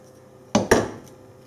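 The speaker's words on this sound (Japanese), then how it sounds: "玉ねぎはここに芯がありますので、ここは落として" Two sharp knocks of a knife blade striking a cutting board as the core is cut off an onion, close and distinct, with a short pause between them and quiet afterwards.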